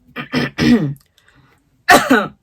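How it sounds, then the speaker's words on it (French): Close, loud coughing: three quick rough coughs, a pause, then two more. "jusqu'à aujourd'hui, je tousse un peu"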